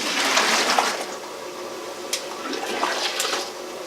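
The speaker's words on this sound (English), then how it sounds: "use a pitcher and move some of this hot water in here" Hot water is poured from a pitcher into a cooler used as a mash tun for home brewing, a splashing, gurgling pour that swells and fades in bursts, close and fairly loud with no talk.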